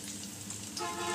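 Pieces of pointed gourd (potals) dropped into hot oil in a pan for a coriander-spiced curry, giving a steady soft hiss and crackle of sizzling that swells slightly near the end.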